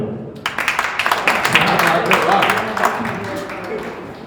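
Audience at a Hindi kavi sammelan poetry gathering breaks into applause, a burst of clapping that starts sharply, swells and holds steady for a few seconds before thinning out.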